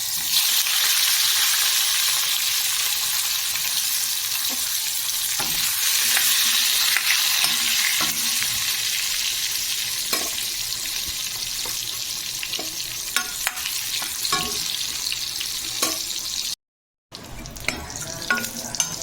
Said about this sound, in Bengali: এইবারে আলু আর বেগুন ডুমো ডুমো করে কেটে রেখেছি সেটাও আমি ভেজে নেবো